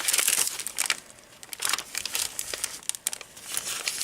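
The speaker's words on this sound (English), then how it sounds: "More tracing paper." Sheets of tracing paper are handled inside a handmade prayer journal, giving close, crisp crinkling and rustling in irregular bursts, loud at the start and then coming in sharp flurries, with no speech.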